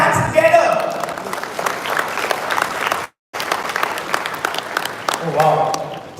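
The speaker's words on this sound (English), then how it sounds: "Thank you so much for the thunderous and encouraging round of applause right at the start." Loud, sustained applause from a crowd greets a finalist in an Asia-Pacific speech competition. The clapping is broad and continuous, drops out briefly for a moment, and then returns just as strongly.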